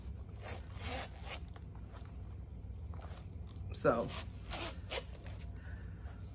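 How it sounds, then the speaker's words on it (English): A zipper being pulled closed on a Coach wallet, a short, close rasping zip heard once mid-clip, with a smaller follow-up zip, over a low steady background hum and brief talk. "And it zips fine."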